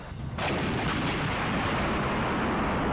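A towed artillery gun fires once with a loud, close boom, and a long rumbling roar and echo trail off for several seconds afterward.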